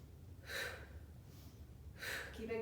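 Two audible breaths, an inhale then an exhale, from someone doing small shallow push-ups in a plank, close and fairly soft, with no talking.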